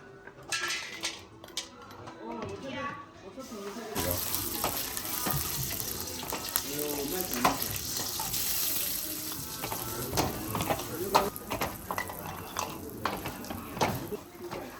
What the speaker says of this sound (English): This Mongolian lady put butter, beef jerky, fried millet, and a bunch of cheeses into an iron pot before warm milk tea is added